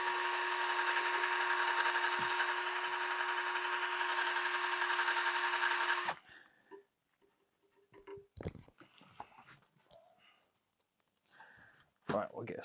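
A power drill with a cobalt bit cuts a hole in a bracket while building pegs and brackets for a 1991 Yamaha FZR 600 track bike: about six seconds of steady, loud whine, then it stops, leaving scattered clicks and handling clatter.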